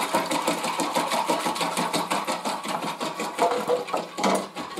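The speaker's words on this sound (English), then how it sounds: "give that a quick whiz with the old whisk" An electric whisk whizzes fresh yeast for a ciabatta ferment, giving a continuous, close, fairly loud motor whir with a fast rapid pulsing and no talk.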